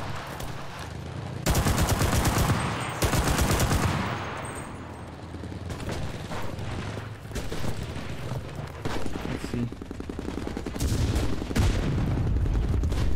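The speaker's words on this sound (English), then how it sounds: "I do hear some sniper fire coming from this room over here." Gunfire in the WW2 video game Enlisted: sustained loud volleys of rifle and automatic fire with booming shots, dense and continuous across the scene, with little or no talking.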